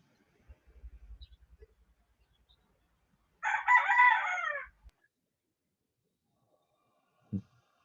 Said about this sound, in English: that's the sound